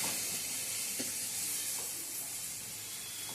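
Amaranth leaves cooking in a covered pan give off a steady, fairly quiet sizzle and steamy hiss that runs unbroken, with faint soft ticks and pops now and then.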